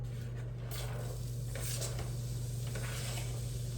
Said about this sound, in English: I have my butter melting in my pan